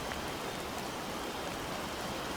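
Steady heavy rain in a video game set at Neuschwanstein, a dense, even hiss with no breaks or other sounds, continuous throughout.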